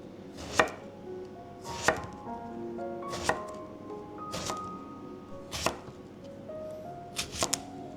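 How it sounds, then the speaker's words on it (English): A knife slices eggplant into half-inch rounds on a board, six or seven sharp close chops at uneven intervals with quiet pauses between. "Cut off the stem and slice your eggplant into rounds, about ½ inch thick."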